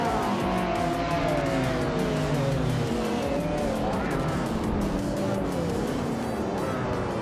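Race cars launch off the line in a racing video game, engines roaring loudly with climbing pitch sweeps, a brief tire squeal, and cars surging past in a dense, constant blast of sound.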